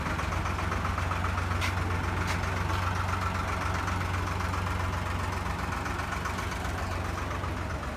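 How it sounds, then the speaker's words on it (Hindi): A three-cylinder tractor engine idles steadily at a tractor market with a low, even chugging rumble, continuous and moderately close, with no voices. "3 सिलेंडर ट्रैक्टर है ये।"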